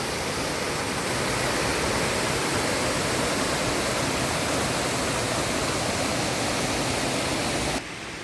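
A small stream-fed waterfall runs beside a plot of land in the forest, a constant close rushing roar that drops off abruptly near the end.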